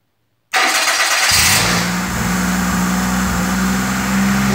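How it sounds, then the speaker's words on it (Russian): Engine starting on a КИПАЧЬ А at its first start: the motor catches abruptly after silence, surges loudly, then settles into a steady, fairly loud running drone with no talk over it. "Так, запуск двигателя производим."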